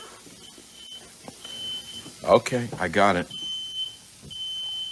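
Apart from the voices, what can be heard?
smoke detector alarm beeping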